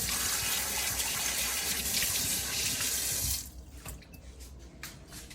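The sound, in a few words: tap water rinsing a coffee machine part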